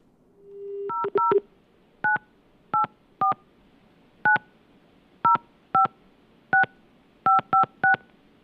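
Touch-tone telephone keys are dialed one after another, a dozen short beeps at uneven intervals following a brief rising tone.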